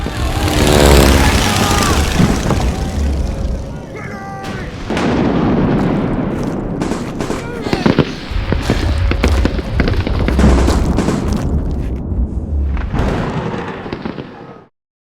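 Explosions and booms from a film battle scene rumble loudly and continuously, with crackling bursts and sharp impacts layered over a dense, heavy roar that cuts off at the end.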